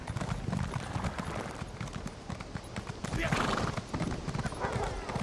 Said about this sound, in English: The Skyrim horses are this slow.